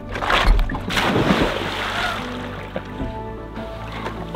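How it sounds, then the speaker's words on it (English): Someone jumps into a small, cold lake, making one loud splash near the start, followed by a few seconds of sloshing and settling water close by. "there's a beautiful little lake that we can jump into"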